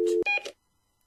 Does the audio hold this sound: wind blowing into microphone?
no